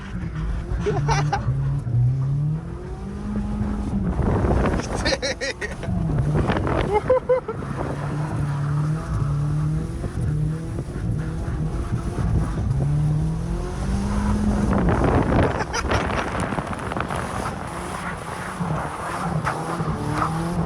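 A four-wheel-drive car drives steadily with a continuous engine drone, rising and falling as it accelerates, mixed with heavy wind buffeting against the microphone and some road rumble throughout.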